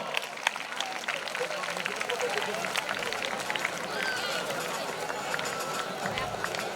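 A crowd claps steadily and densely at a school felicitation ceremony at Vidyoday Vidya Sankul, welcoming guests; the sustained applause fills the room throughout with no pause.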